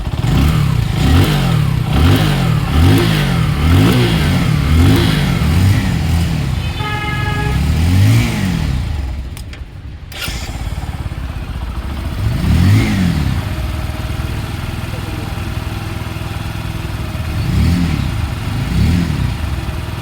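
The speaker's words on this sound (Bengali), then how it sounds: "এবার আমি তোমাদের গাড়িটা স্টার্ট করি, সাউন্ডটা শোনো শুধু গাড়িটার।" A Bajaj Pulsar 135 LS motorcycle engine, just fitted with a new timing chain, runs close and loud, revving up and down in repeated swells with a brief dip midway.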